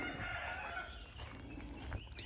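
Chickens on a farm plot in Thailand, with a rooster crowing and hens clucking at moderate distance over steady outdoor background noise.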